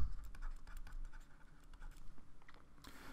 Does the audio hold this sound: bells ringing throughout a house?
no